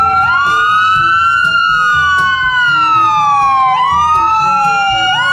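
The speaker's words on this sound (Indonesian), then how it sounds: "di sini ada mobil ambulans" A loud ambulance siren wails, rising and falling in slow sweeping cycles, close and continuous, over a low engine hum.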